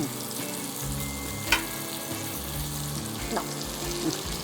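Bengali home cooking with food sizzling and frying steadily in a pan. A utensil scrapes and stirs now and then over the constant crackle, with a faint tap of water in the background.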